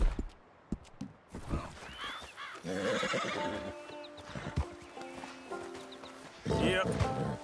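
Horse whinnying and snorting with hoof clip-clops in Red Dead Redemption 2, several loud neighs over a few seconds, with game sounds and someone talking at times.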